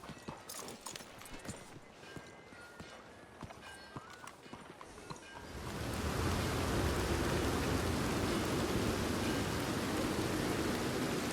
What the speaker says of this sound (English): It is raining down hard